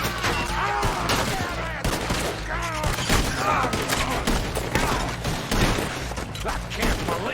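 Gunfire in the Red Dead Redemption 2 video game: dense, rapid volleys of shots crackle continuously over a rumbling score, loud and close, with shouting voices mixed in.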